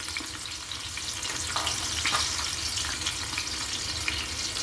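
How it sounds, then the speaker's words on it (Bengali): Chopped onion sizzles in hot oil inside a pressure cooker on a switched-off stove, giving a steady, close crackling hiss with faint stirring clicks throughout. "তেলটা আমি গরম করে নিয়েছি। চুলাটা অফ আছে। পেঁয়াজ কুচি দিয়ে দিলাম"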